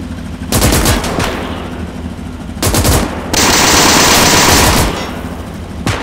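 Loud, close bursts of automatic weapon fire rattle in several rapid volleys during a 1939 Warsaw siege battle in Call to Arms - Gates of Hell, separated by brief gaps, with a sustained noisy roar in between.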